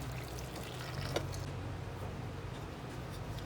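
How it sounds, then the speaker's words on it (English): Warm water pours steadily over Jamaican-style cow foot in a cooking pot, a continuous soft wash of liquid that stays even and fairly quiet from start to finish. "we're gonna pour some warm water over it and cover it and leave it to cook"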